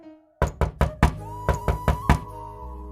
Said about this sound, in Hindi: दोनों बात कर ही रहे थे कि तब तक दरवाजा बजाने की आवाज सुनाई दी।